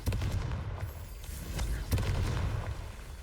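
Explosive blasts from the Confringo fire spell in Hogwarts Legacy, two broad muffled bursts with a rumbling low-end bed in between, moderately loud and without talk.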